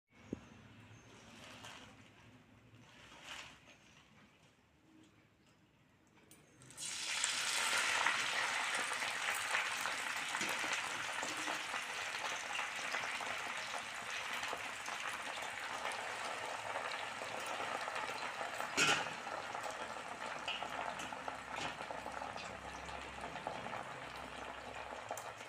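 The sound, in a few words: gongura leaves frying in oil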